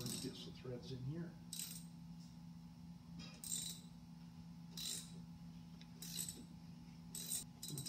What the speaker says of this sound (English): let's see what we can do to get some threads in here